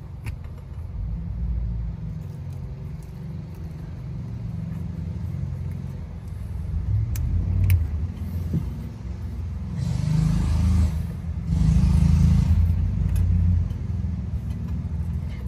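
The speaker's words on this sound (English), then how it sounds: "Some guy keeps driving around the school on a go-kart." A go-kart drives laps around a school outside, its small engine a low rumbling drone that swells louder as it passes nearby and fades as it moves away.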